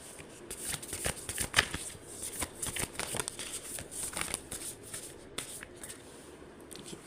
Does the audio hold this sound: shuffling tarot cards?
yes